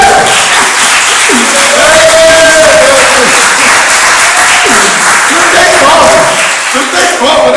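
Church congregation applauding, a steady wash of clapping running under a man's loud speech throughout.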